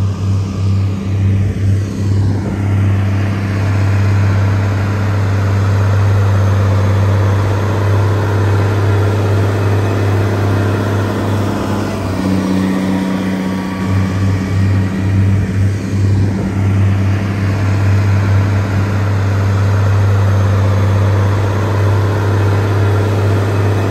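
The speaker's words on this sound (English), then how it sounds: "Two tractors plowing and one just passes the other one." Heavy diesel tractors drone steadily at close range while plowing, a deep low rumble that swells slightly midway as one tractor passes another, with no talking.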